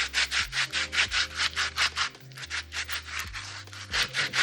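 Skin is rubbed off a carrot by hand with a little oil instead of a knife, making steady, rhythmic scraping strokes, about a dozen close, even passes with no talking.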